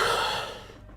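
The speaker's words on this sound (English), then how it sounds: "Why is she breathing so heavy?" A woman character in the video game Unheard breathes heavily, one long airy exhale that fades out over about a second, close and alone.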